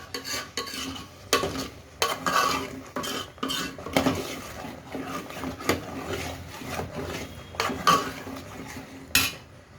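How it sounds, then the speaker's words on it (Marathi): Masala sizzles in oil in a pan while being sautéed for misal, with a spoon repeatedly scraping and knocking against the pan in irregular clattering strokes over a soft frying hiss, close and fairly loud. "आपल्याला चांगलं परतून परतून हे मसाले वगैरे असं तेल सुटलेलं दिसलं पाहिजे"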